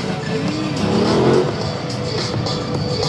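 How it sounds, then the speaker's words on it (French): A single-cylinder motorcycle at a motorcycle show in Montbéliard revs as the throttle opens for a wheelie, swelling briefly near the middle before settling into a steady mid-level engine note. "mettre un petit peu de gaz, lâcher l'embrayage et voir comment la moto se lève"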